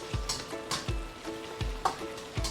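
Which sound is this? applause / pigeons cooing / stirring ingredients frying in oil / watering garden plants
stirring ingredients frying in oil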